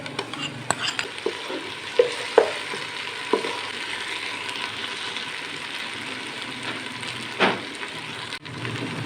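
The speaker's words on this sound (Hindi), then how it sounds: "प्याज फ्राई हो गया है। अब इसमें मैं डाल रहा हूँ 2 टीस्पून अदरक लहसुन का" Ginger garlic paste stirred into fried onions in a pan, a soft steady sizzle with scraping spoon strokes and occasional clinks of utensil against the pot, no talking.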